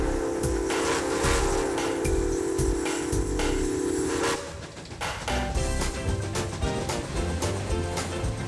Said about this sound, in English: Let's watch the whistle blow.